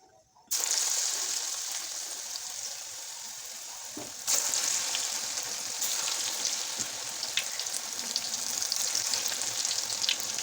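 Chicken bajji dropped into hot oil, setting off an abrupt loud sizzle that keeps up as steady bubbling frying, with a fresh surge a few seconds in as more batter goes in; close and continuous with no talk.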